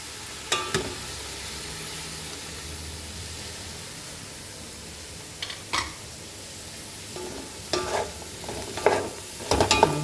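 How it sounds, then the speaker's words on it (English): Cauliflower frying in a pan with amchur, stirred over a steady hiss of hot oil, with occasional scraping spoon strokes that come more often toward the end. "So now I will add cauliflower to this."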